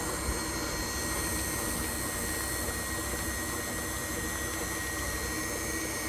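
An electric mixer beating chocolate peppermint frosting made with cream cheese, butter, powdered sugar and milk, a steady close whirring drone that holds evenly throughout without pause.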